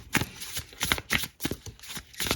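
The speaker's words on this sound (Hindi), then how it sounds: "कुछ कार्ड्स और लेती हूँ फिर हम दूसरा डेक यूज करेंगे।" Tarot cards being shuffled by hand in quick, close riffling bursts, a handful of crisp flutters over a couple of seconds.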